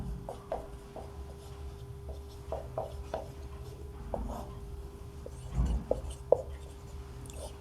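Pen strokes scratch on paper during a maths lesson, a series of short, faint, close scrapes and taps in an irregular rhythm over a quiet room hum.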